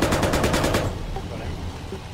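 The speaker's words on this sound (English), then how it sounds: "They're shooting me." In a video game, soldiers shoot at a BTR armored vehicle with a rapid burst of loud, close automatic gunfire that stops abruptly, followed by a low rumbling vehicle drone.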